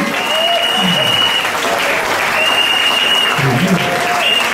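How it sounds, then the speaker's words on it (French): A church congregation applauds and cheers loudly and steadily throughout, a dense wash of clapping with whoops and raised voices rising over it. "Pousse des cris de joie, acclame très fort le roi des rois."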